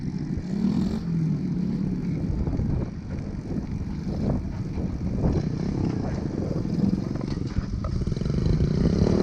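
A gas-powered motor vehicle runs along a park trail, a steady mid-distance engine drone with some clatter that rises slightly near the end, while a person talks over it.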